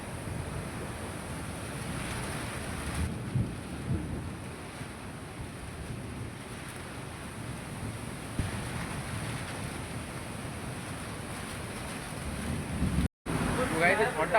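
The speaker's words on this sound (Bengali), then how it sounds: "একটু আগে দেখো প্রচুর ঝড় দেখো দেখতে বুঝতে পারছো ঝড়ের স্পিডটা কেমন" A village windstorm with rain: a steady, loud broadband roar of gusting wind and rainfall, buffeting the microphone throughout. A faint voice appears in places, and there is a brief dropout near the end.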